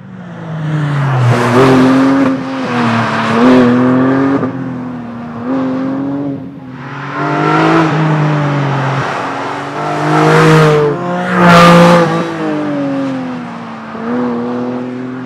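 A Porsche sports car engine revs and accelerates hard on an open road, rising and falling through several gear pulls, loud and close with no talking.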